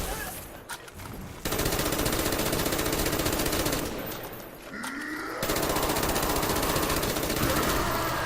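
Rapid automatic gunfire in Black Ops 1 Zombies on the Call of the Dead map, loud and sustained in long bursts with brief pauses, game sounds layered over the shooting.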